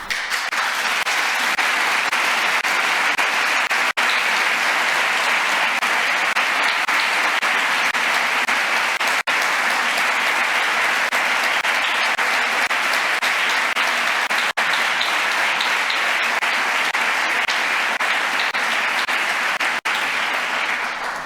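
A political rally audience in Girona claps in loud, sustained applause that stays at an even level from start to finish.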